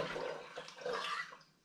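A dissolved sugar solution is poured into a hard seltzer fermenter, a short, close splashing gush of liquid that tapers off after about a second and a half.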